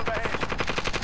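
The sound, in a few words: gunfire in video game Call of Duty Warzone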